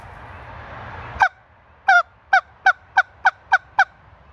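A hunter blows a Canada goose call to imitate the spit note: after a brief rustle, eight sharp, loud honking notes ring out alone in a fast, fairly even series.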